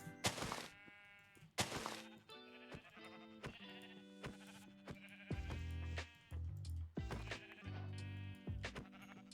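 Minecraft sheep give several short, nasal bleats, spaced apart and clearly audible, alongside blocky game sound effects and soft thumps in a quiet scene.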